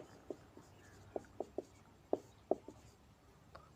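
Pen strokes while writing notes tap and scratch on paper at an irregular rhythm, a series of quiet, close ticks in a calm room with no talking.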